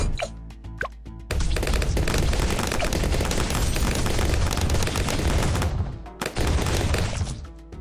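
Cannon fire in a tower-defense-style video game, a dense run of loud booming, crackling shots lasting several seconds after a few isolated blasts, with brief gaps near the end.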